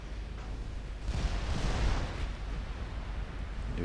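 Heavy naval gunfire from battleship guns in Ultimate Admiral Dreadnoughts, a dense rumbling wash of booms swelling midway and lingering as a continuous low roar, fairly quiet overall.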